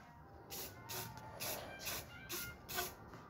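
Short bursts of spray paint hiss from a can onto a lowrider beach cruiser bicycle, about six quick pulses in an even rhythm at close range.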